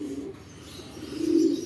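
A lone racing pigeon cooing in its loft, a soft low throaty coo that swells toward the end, close and alone.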